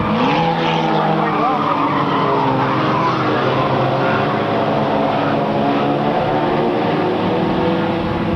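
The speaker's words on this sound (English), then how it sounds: "He shifts about midway down and then he drops it back into first as he heads into the turn." A race car roars loudly and continuously down a short-track straightaway at a 1998 race, close by, with its engine pitch sweeping as it shifts.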